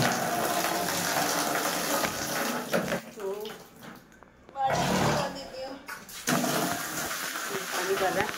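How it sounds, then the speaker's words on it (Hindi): A tap runs into two or three buckets at home with a strong gushing roar. The flow cuts out and restarts twice, and someone talks over the water as it fills. "यहाँ 2-3 बाल्टियाँ होती है ना, उसको भरना होता है, तो वो भर रही हूँ।"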